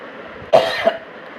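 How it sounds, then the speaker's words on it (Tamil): A single close, loud cough with a short second burst, isolated against a quiet background. "இருமல் வந்துக்கிட்டே இருக்குது"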